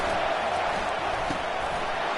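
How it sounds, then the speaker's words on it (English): Dense, steady roar of a stadium crowd in a TCU versus Utah college football video game, a broad continuous wash of noise filling the whole stretch without letup. "Listen to this crowd just shaking the girders of this place,"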